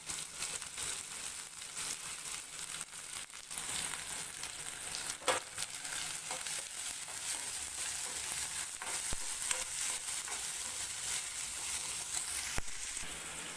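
Onion and green chilies fry in a cumin tempering for moong-masoor dal, making a constant, close sizzle with scattered pops and light stirring clicks and no talking.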